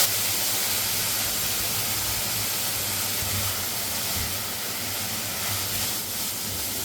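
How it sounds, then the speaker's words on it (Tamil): Broad beans (avaraikkai) curry sautéing in a pan, a steady close hiss and sizzle running without a break throughout, with no voices. "ஒரு 2 நிமிஷம் அப்படியே வதக்கிடுவோம்."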